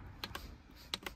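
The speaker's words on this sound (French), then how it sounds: "c'est le bruit des boutons" Buttons on a multifunction hub for a Tesla Model 3 or Model Y pressed in two quick pairs, crisp plastic clicks like a mouse, close and quiet against a faint background hiss.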